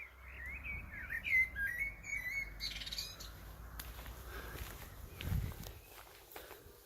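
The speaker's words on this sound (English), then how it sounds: "You can hear the birds." Birds chirp and call intermittently along a hiking trail in Croatia, fairly faint and distant, mixed with footsteps on the path and light outdoor rustle.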